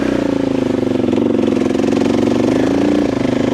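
A dirt bike fitted with a Dobeck EJK fuel controller, ridden through mud, revs loud and close, its engine drone holding steady with a brief pitch climb near the end.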